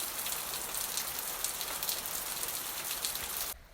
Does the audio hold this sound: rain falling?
yes